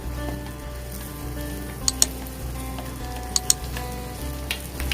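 Green chillies and beans fry in a pan over a low gas flame, a steady even sizzle with a few sharp pops and crackles, close and continuous with no talking.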